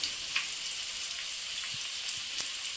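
Vegetables sizzle in hot oil in a pan while cooking sweetcorn rice, a steady bright crackling hiss with small scattered pops, close and fairly quiet, with no voices.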